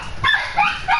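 A dog barks and yips three times in quick succession, close and fairly loud, with a slightly whiny edge.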